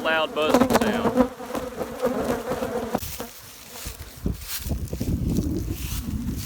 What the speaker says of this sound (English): Never get used to that sound, that loud buzzing sound.